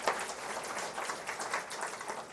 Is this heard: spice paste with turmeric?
no